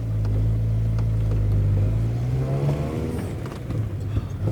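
Car engine accelerating on a drive in Belgrade, a steady low drone rising in pitch then easing off as the gears shift, loud and close throughout with no talk.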